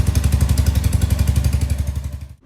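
A Royal Enfield Hunter 350 motorcycle with an exhaust fault running nearby, its loud, steady thumping exhaust giving off a rapid cracking, popping beat before cutting off abruptly at the end.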